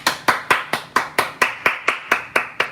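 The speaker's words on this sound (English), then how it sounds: "Can we get like a round of applause?" A round of applause during a livestream, a single pair of hands clapping close up in a steady, evenly spaced rhythm of about a dozen sharp claps.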